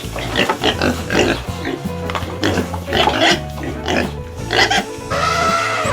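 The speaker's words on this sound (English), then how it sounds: "pig," A pig grunts and oinks in a rapid run of snorting calls, loud and near, over a bed of backing music.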